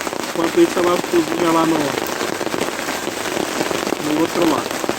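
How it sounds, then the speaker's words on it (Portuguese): Steady rain falls on a rainy carnival campsite, a dense broadband patter running the whole time beneath a person speaking in Portuguese. "Aqui é assim, é chuva direto"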